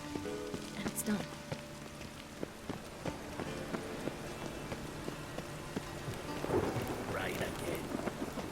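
Rain and rolling thunder in the fantasy video game The Witcher 3, a soft continuous patter under low rumbles, with scattered footsteps, clinks and brief bits of game ambience mixed in at modest volume.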